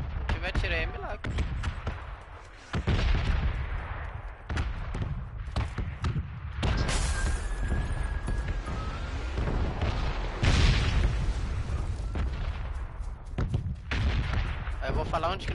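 Gunfire and booming shots in the video game PUBG (PlayerUnknown's Battlegrounds) on PS4, several sharp reports and heavy thuds scattered irregularly, some seemingly distant, with players talking throughout.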